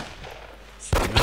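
Gunfire in the zombie survival game DayZ: after a quiet stretch, a sudden loud burst of shots erupts near the end, followed by another sharp report.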